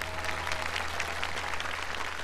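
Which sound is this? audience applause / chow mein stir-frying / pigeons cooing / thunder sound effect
audience applause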